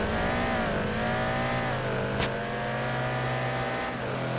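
Car engine in the video game Mad Out 2 holding a continuous loud drone with slight rises and dips in pitch, a brief sharp noise burst partway through, with no talk over it.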